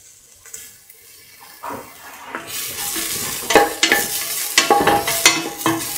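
Shallots and cardamom sautéing in a pan, a steady close sizzle with scraping spoon strokes and clinks against the pan, building from a quiet start.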